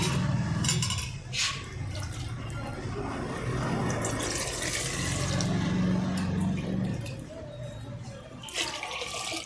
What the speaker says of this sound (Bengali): এবার হাঁড়ির মধ্যে জল দিয়ে দেবো